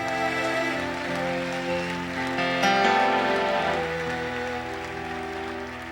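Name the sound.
applause in church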